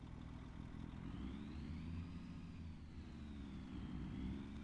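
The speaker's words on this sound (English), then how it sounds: "And this truck's loud." A loud truck engine in the Farming Simulator 25 video game drones steadily at a constant pitch, with a faint whine that slowly rises and falls and no talking over it.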